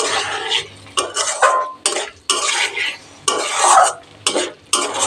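Potatoes and ground spices are stirred in a pan, a utensil scraping and clattering in close, repeated bursts with a light sizzle underneath and short pauses between strokes.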